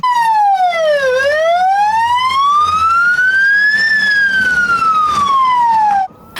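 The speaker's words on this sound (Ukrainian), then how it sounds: "Мчать під звуки сирен і вибухів, адже рахунок йде на хвилини" A loud wailing emergency vehicle siren in Ukraine's Dnipropetrovsk region sweeps slowly down, then up, then down again, close by and continuous.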